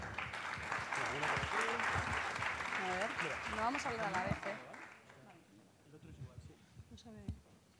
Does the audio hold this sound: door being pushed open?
no